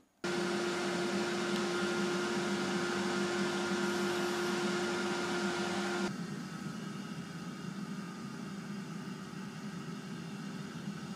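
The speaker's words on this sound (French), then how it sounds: "le bruit de fonctionnement, j'aurais préféré un ventilateur un peu plus discret" A Silvercrest SHFD 2150 A3 2150W air fryer fan hums with a steady tonal whine, then the pitch drops partway through and a softer, lower whirring continues.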